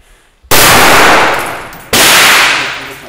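Philippine special forces fire on command, producing two very loud, close gunshot blasts about a second and a half apart, each booming and trailing off in a long, slowly fading rumble.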